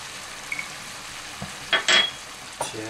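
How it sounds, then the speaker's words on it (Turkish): Leeks stirred gently in a cooking pan, a quiet background sizzle broken by a few soft scrapes and clinks of a utensil against the pan. "Pırasaları çok ezmeden hafif bir şekilde karıştırıyorum."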